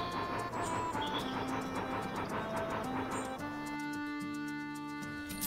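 A train running in the video game Bounty Train, heard as rhythmic ticking clatter under sustained tonal game music that shifts to held chords partway through.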